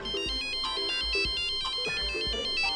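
A phone ringtone plays a repeating electronic melody, loud and steady, ringing on for a wife's incoming call that is then cut off, with no talk over it.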